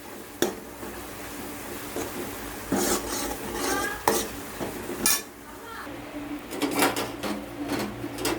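Spice powders, including rasam powder, chilli powder and turmeric, being stirred into a sautéing mixture in a pan during home cooking; intermittent scraping and rasping strokes of utensil against pan come in uneven bursts, close and moderately loud.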